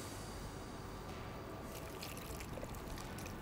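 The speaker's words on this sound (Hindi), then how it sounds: "ये हो गया पानी शामिल इसके अंदर" Water pours into a spice paste in a kitchen, a steady soft trickle and splash at close range, with no talk.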